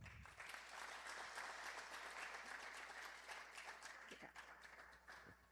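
An audience at a family descendants' gathering applauds the actors, with sustained, dense clapping that holds steady and then tapers into a few separate claps at the end.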